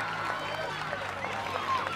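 A crowd at an international netball match between Antigua and Barbuda and Saint Kitts applauds a goal, a soft, distant wash of clapping with a commentator's voice talking over it.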